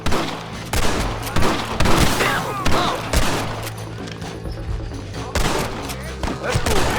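Repeated gunshots ring out during a Red Dead Redemption shootout, sharp cracks in irregular bursts close by and at a distance, with loud battle noise filling the scene and voices shouting over it.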